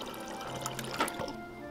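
Water is poured to water plants, giving a soft, fairly faint liquid trickle with a few small splashy bursts near the middle.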